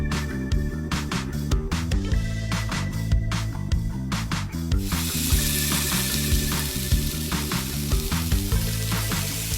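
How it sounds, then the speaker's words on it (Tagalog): Ilocos empanadas stuffed with papaya, egg and longganisa fry in hot oil, a steady close sizzle with popping crackles and a sudden louder hiss partway through, with no talking. "Saka babalutin at piprituhin sa mainit na mantika."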